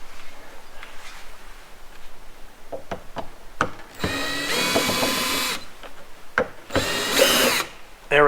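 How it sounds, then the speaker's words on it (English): A power drill backs two screws out of the strike plate on an RV entry door, sounding in several short whirring bursts and two longer runs, close and loud, with no talk over it. "looks like I need to take the 2 screws off of the Strike plate."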